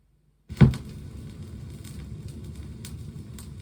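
An original 1963 mono Beatles vinyl record starts playing after a needle-drop thump, followed by a steady bed of faint surface hiss with only occasional light ticks, heard alone without talk.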